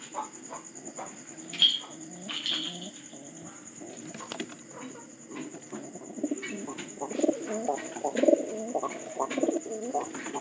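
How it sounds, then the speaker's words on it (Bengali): Pigeons coo softly and repeatedly inside a pigeon house at night, a steady low burbling with a few brief chirps and rustles, all close by and without talk. "এটা পায়রা ঢুকছে, কিন্তু পায়রাটা ঢুকে নাই"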